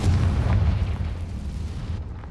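Confringo explosive spell going off in Hogwarts Legacy, a heavy close boom with deep rumbling low end that holds steady and slowly tails away over two seconds.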